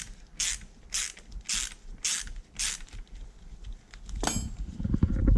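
A chain tool winding against a Sur-Ron electric motorbike chain to press out a rivet, giving five evenly spaced rasping ratchet strokes up close, then a heavier creaking crunch as the rivet gives way.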